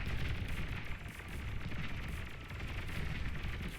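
Units being blown apart in battle in the strategy game BAR, with a dense, continuous rumble of overlapping explosions and gunfire, faint and distant-sounding with no clear individual blasts.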